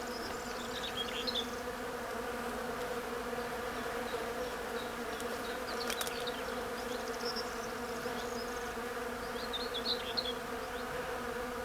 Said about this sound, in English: you can just listen to how many bees are in this